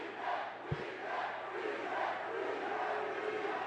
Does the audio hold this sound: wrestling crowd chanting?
yes